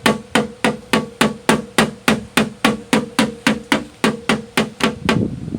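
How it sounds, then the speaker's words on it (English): A body hammer taps out a dent in a car panel during dent repair, striking in a steady, even rhythm of about sixteen sharp metallic knocks, close and loud, with no talk. "you could tap it in slowly with your body hammer"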